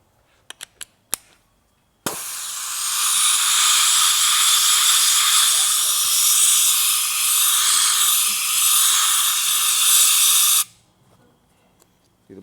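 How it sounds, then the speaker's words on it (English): A small sand blaster for spark plugs, used on a fouled plug from a Ford Explorer with a no-start, roars as a loud continuous blast for about eight seconds, preceded by a few sharp clicks. "It's like a little sand blaster for spark plugs."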